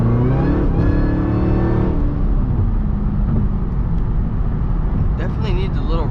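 Tuned Cadillac CTS-V accelerating from an 80 km/h cruise with the transmission in automatic, its engine droning loud and close inside the cabin as the pitch rises, drops at a shift, then climbs again, with a voice talking over it.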